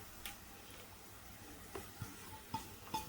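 Green chilies, curry leaves and carrot pieces frying in a pan, giving a faint, quiet sizzle broken by a few soft clicks and light stirring taps near the end.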